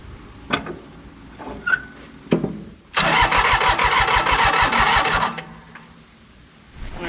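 An old commercial diesel mower engine, left sitting in a field for 20 years, cranks loudly for about two seconds with a rapid rhythmic churning but does not catch, preceded by a few clicks and clunks.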